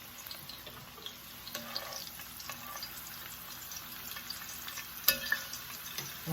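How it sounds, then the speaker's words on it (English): Peanut oil with a small piece of onion in it, frying before crappie and catfish go in, gives a soft, steady, fairly quiet sizzle with faint crackles and one sharper pop near the end, with no voices. "I'm getting ready to drop me a little piece of onion off in this grease"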